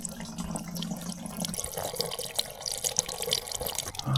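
Diesel trickles and splashes steadily through a filter into a container, a continuous thin pouring sound with small drips, close and fairly quiet.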